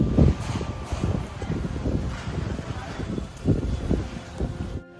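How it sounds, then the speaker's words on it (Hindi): Strong wind gusts roar steadily outdoors at the onset of a storm, with buffeting rumbles against the microphone and rustling debris throughout. "बहुत बढ़िया हवा चल रहा है"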